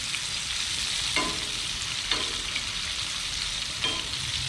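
Cajun red snapper frying in hot grease, a steady crackling sizzle with a few louder pops and stirring clicks, close and continuous.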